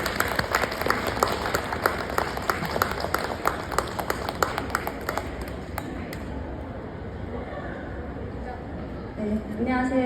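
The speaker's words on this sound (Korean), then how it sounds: "여러분 큰 박수로 맞아주시기 바랍니다" Applause from a lecture audience at Starfield Library greets a writer being introduced. Dense clapping runs steadily for about six seconds over a bright hum, then fades into room noise, and a voice begins near the end.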